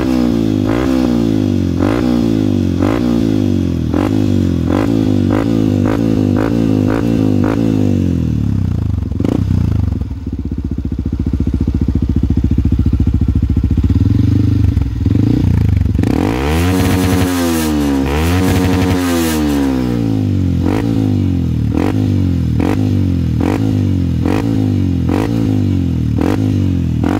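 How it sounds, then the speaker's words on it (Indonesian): A Yamaha WR155R motorcycle fitted with a modified exhaust runs nearby, its engine pulsing in a steady rhythmic idle, then rising and falling through a couple of throttle blips before settling back to a lumpy idle. "suara knalpotnya lumayan enak sih"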